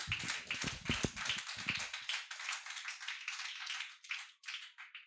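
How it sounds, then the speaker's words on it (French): Congregation clapping in a church, steady dense applause that stays fairly loud throughout, with some heavier low thumps in the first two seconds before it settles into brighter continuous clapping. "On peut acclamer le Seigneur pour cela, bien-aimé."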